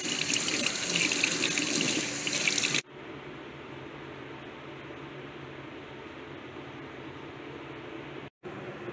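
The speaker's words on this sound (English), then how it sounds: "get that water dish all cleaned up" Tap water runs steadily into a sink while a tarantula's water dish is rinsed, loud and broadband for the first few seconds, then dropping to a quieter, softer flow with a brief cutoff near the end.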